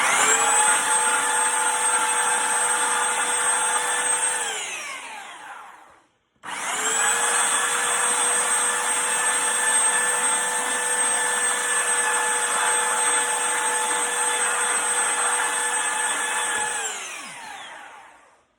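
A power sander whittling down a wooden pole for a replica Civil War flagstaff, running as a loud, steady whine for two long stretches that each wind down, alone without speech.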